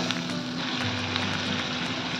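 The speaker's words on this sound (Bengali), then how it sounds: "এবার এটাকে দিয়ে এটাকে আমি ভালো করে ভেজে নেবো যতক্ষণ না এর থেকে তেল ছাড়ছে।" Onion and spice paste with coriander, cumin and black pepper frying in hot oil, a steady close sizzle and crackle with no talking.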